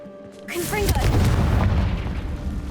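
A Confringo fire spell from Hogwarts Legacy erupts as a loud, booming blast with a fiery whoosh, a sustained roaring rumble that fills the rest of the moment.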